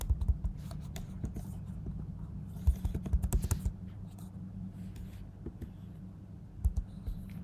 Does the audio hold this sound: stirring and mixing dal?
no